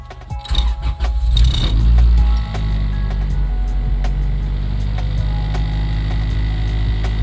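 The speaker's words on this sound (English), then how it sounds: "this is going to be the first start up with the mounts" An Acura Integra engine, fitted with new stiffer motor mounts, cranks and fires up loudly nearby, then settles into a steady, even idle rumble with a slight hum.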